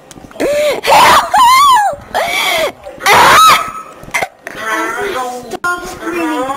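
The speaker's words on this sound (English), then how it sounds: "Stop screaming!" Several players scream loudly into Rec Room game voice chat, shrill rising and falling shrieks in repeated bursts, overlapping with excited shouting.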